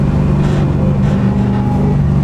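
BMW E36 M3 with a 7.1L LS2 V8 swap at half throttle in fourth gear, a loud steady deep engine drone heard from inside the car.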